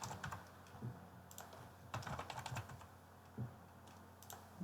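Quiet, steady typing on a computer keyboard, a continuous patter of soft key clicks with small pauses and no voices.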